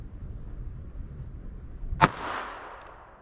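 A single sharp gunshot from a .32 ACP +P Buffalo Bore hard-cast pistol round, likely fired through a Kel-Tec pocket pistol, cracks loudly midway and trails off in a brief outdoor echo over a low ambient rumble.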